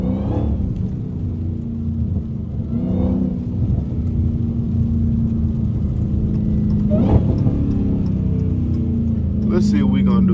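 A Dodge Hellcat car drives with a steady, low engine rumble close by. A few short rev surges rise above it, and brief voices break in now and then.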